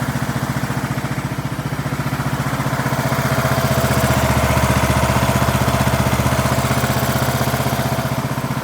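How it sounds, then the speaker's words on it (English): An old Briggs and Stratton engine on a 2003 Craftsman LT2000 lawn tractor runs close by with a steady, loud, even chugging idle that swells slightly midway. "These old Briggs and Strattons, you can't beat them."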